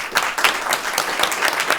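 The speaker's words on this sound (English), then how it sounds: "How about a round of applause for our" A short burst of steady, close applause from attendees at a school committee meeting, with dense clapping and no speech.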